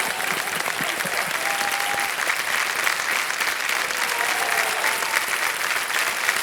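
Steady, dense applause from a studio audience on the KBC quiz show, a continuous wash of clapping at even loudness with no pauses, sustained throughout.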